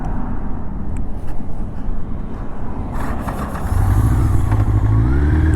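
A 1984 Honda CB700SC Nighthawk motorcycle engine runs close by with an uneven, sputtering idle, then lets out a loud rising rev near the end.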